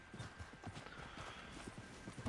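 Horse hooves clip-clop in a steady rhythm in the Red Dead Online video game. The footfalls are fairly soft and even, with a brief whinny near the start.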